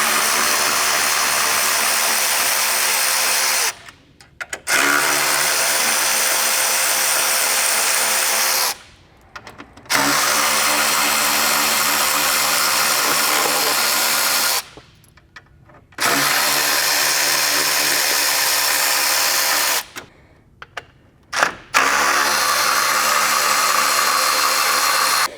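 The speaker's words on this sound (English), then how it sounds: "we can remove all the bolts for this upper tie bar" A power tool driving out the bolts on the upper tie bar of a B48-engined F55/F56/F57 Mini. It whines loudly in four long bursts, separated by short pauses.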